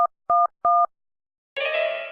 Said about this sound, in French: On voit mieux les touches pour composer un numéro.